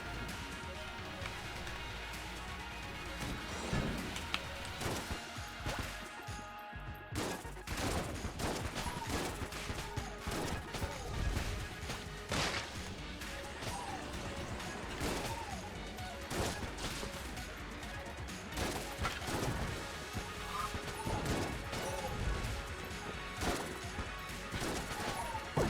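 Dense, continuous gunfire in the bullet-hell game Enter the Gungeon, with rapid overlapping shots and crashing impacts running steadily throughout, loud and busy over game music.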